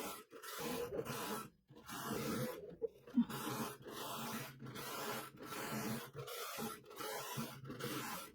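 A Toyota KS787 knitting machine carriage slides back and forth across the needle bed in slip setting, giving about nine even, rasping sweeps, each separated by a brief pause.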